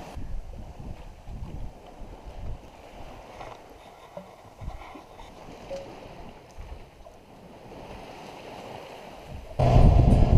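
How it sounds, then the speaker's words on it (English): Wind and water rush around a motor-sailing boat pounding into a headwind on an offshore Atlantic passage. A steady, noisy wash fills the whole clip, with gusty rumbles throughout and a loud burst of spray and wind near the end. "Motor sailing, pounding into a headwind."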